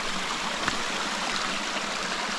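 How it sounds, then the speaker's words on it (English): A little creek flowing along a river, a steady close rushing and trickling of water, continuous and fairly full, with no talk over it. "You see this little creek."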